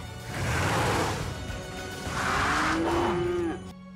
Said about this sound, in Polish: Jeszcze nie, Ryder, ale znalazłam krowy farmera.